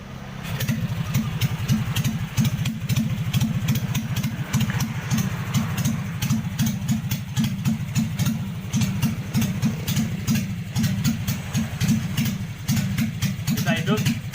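A Vulcan 550cc motorcycle engine fitted with a converted CDI ignition idles steadily with a fast, even, throbbing exhaust pulse, close and continuous throughout.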